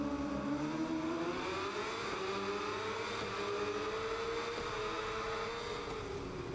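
Superbike engines in the SBK 22 video game as race 1 gets underway, a dense, continuous high whine of several bikes rising and sustaining loudly throughout, with no voices.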